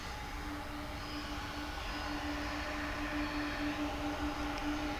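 A 31-year-old MD-11 jet at DFW Airport rumbles at a distance with a steady, moderately faint roar and a faint whine, and no voices.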